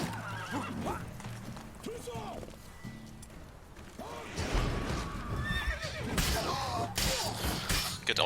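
A horse in The Witcher 3 whinnies loudly over galloping hooves amid battle clatter and crashes, with someone talking over the action.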